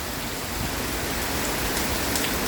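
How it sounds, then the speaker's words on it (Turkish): Dense, steady downpour roaring without pause during a storm in Istanbul, a loud wash of heavy rain hitting hard surfaces close by, such as a balcony. "O derece bir fırtına eşliğinde yağmur patladı resmen."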